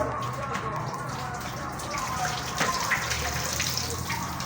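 Water streams steadily out of holes punched in a plastic bottle, a continuous close splashing and trickling with no voices over it.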